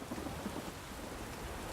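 Rain and distant thunder from the PC game The Witcher 3: Hearts of Stone form a soft, steady hiss with a low rumble, faint and without voices.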